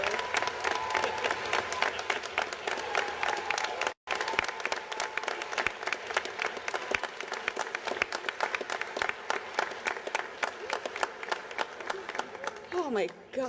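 Sustained applause from a graduation audience honoring the valedictorians of the classes of 2020 and 2021, dense steady clapping filling the hall for over thirteen seconds with a brief break near the start, then a voice briefly rising at the end.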